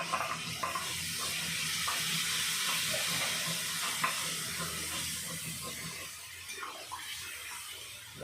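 A splash of water is added to a pan of frying spices and turmeric in a home kitchen, giving a soft, continuous watery sizzle with faint clinks and stirring.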